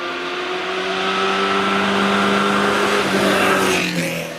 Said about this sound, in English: Sounds like a V-twin engine.